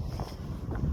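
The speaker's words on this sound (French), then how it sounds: "je sens qu'il y a du vent" Low, blustery wind in Scotland buffeting the microphone in a continuous rumble, with no one speaking.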